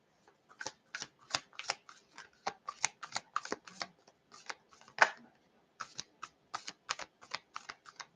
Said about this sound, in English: I am feeling called to pull one of the Native American cards for you